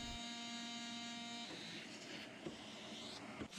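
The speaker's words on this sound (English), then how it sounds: "Here I'm using my oscillating sander and a vacuum just to roughen up around the fin box." An oscillating sander works around a paddleboard fin box alongside a running vacuum, a steady tonal electric whine that shifts into broader sanding noise with a few faint knocks, fairly quiet.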